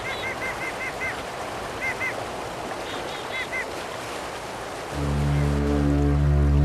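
Nomadic birds honk in cold winter mountain country, a flock calling in quick repeated honks, some paired, fairly distant over a soft rushing background, before a low musical tone takes over near the end.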